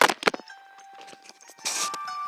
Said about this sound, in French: c'est juste mon portable qui est tombé